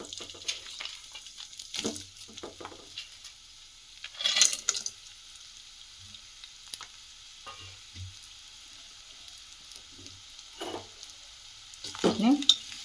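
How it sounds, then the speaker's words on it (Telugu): Bitter gourd pieces fry in oil in a fairly quiet pan. A soft sizzle runs underneath, broken by occasional bursts of stirring and spatula scraping. "ఇప్పుడు కాకరకాయలు ఫ్రై చేసుకోవడానికి ఇంకా కొంచెం ఆయిల్ వేసుకుందాం"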